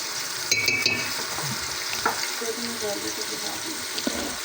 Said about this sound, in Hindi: हमारे ये भुने जा रहा है